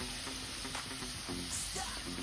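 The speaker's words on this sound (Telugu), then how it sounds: "మనం ఇక్కడ వాటర్ యాడ్ చేయము, జస్ట్ అలాగే ఆయిల్లోనే ఫ్రై చేస్తున్నాము." Potatoes frying in oil with golden-brown onions, a soft steady sizzle with a faint stirring scrape, brief and fairly quiet.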